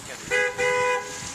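Two close, loud honks from a Jeep car horn: a short first beep, then a slightly longer second one after a brief gap, over faint background noise.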